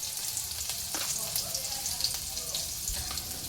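Chillies sizzle and fry in hot oil in a pan on a gas flame turned up high, a steady close hiss with crackling spits throughout.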